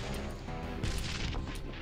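A grenade goes off in a VR round of Trouble in Terrorist Town, a dense, rumbling burst of game explosion noise with a sharper crack in the middle, loud and close throughout.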